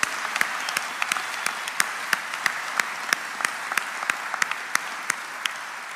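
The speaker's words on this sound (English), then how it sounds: "let's give Chris one more round of applause" Audience applause at a graduation ceremony: a steady patter of many hands clapping, with some sharper individual claps standing out clearly above the crowd.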